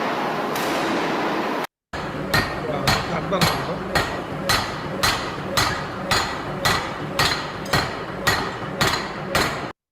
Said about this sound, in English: this impact due to this hammer will cause periodic impact loads